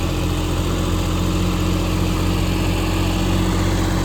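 A tractor engine runs steadily at close range for the whole stretch, with a constant low, throbbing drone that never changes pace and no voices over it.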